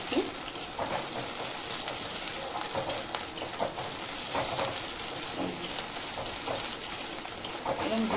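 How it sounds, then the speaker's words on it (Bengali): Egg fried in a pan hisses and crackles steadily while being crumbled, with scraping stir noises mixed into the soft sizzle and faint background voice. "এরকম গুঁড়ো গুঁড়ো করে দেবে ডিমটাকে ভেজে ভেজে"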